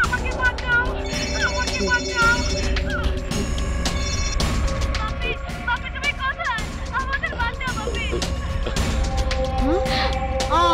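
A telephone ringtone repeats through a busy Bangladeshi film scene, its tones layered over crowd chatter, background music and voices talking throughout.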